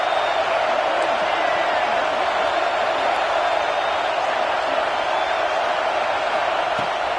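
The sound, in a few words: home crowd cheering at NCAA football game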